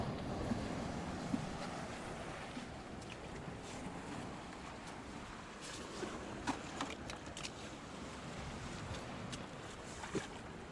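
Sea waves wash at a beach, a continuous broad rushing surge with wind buffeting the microphone, fairly faint and steady with no voices.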